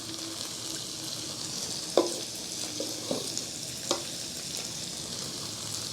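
Garlic and rice sizzle and fry in a pan with a steady hiss, broken by a few soft clinks and scrapes of stirring.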